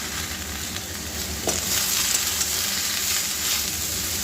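Washed vegetables with Malabar spinach seeds sizzle steadily in hot oil, a close, even crackle with a soft stir near the middle and no voices.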